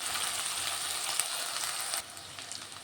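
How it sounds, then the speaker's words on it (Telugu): Ginger paste frying in a pan, cooking off its raw smell before chicken goes in: a steady, soft hiss of close sizzling that eases slightly partway through, with no talking. "అల్లం పచ్చివాసన పోవాలి ఒక రెండు నిమిషాలు ఫ్రై చేసుకుంటా"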